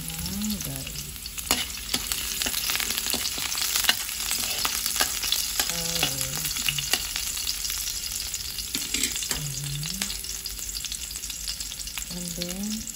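Garlic fries in a little oil with a loud, continuous sizzle, punctuated by intermittent scraping and stirring noises from the pan, with no voices.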